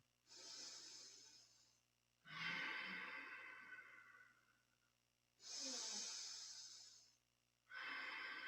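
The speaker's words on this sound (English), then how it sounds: "Just long, deep breathing in this position." Long, deep breaths during Kundalini yoga, held in a back-healing pose, come as four slow airy inhales and exhales, close and steady, each lasting a couple of seconds with brief gaps between.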